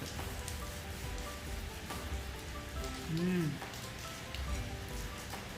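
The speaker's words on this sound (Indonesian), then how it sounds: "Di luar lagi hujan" Rain falling steadily outside a home kitchen, a constant soft hiss and patter of drops throughout, with a brief faint tonal sound partway through.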